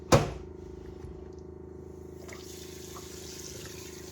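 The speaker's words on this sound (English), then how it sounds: "So I will be first of all washing my fruit and peeling those apples." Bramley cooking apples are rinsed under a running kitchen tap, a steady close stream of water after a brief knock at the start, with no talking.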